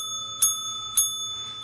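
Bright metallic bell strikes ring out twice, evenly spaced, each with a sharp onset and a long shimmering decay of sustained tones; a third strike begins at the very end. Clear and close, with no talking.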